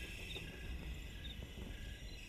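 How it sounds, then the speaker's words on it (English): Night ambience in tall grass during a World War 2 game scene, with a steady bed of insect and cricket chirping and critter noises and faint, far-off calls, continuous and fairly quiet with no talk. "insects, an owl off in the distance, as your chute kind of lands in this tall grass next to you"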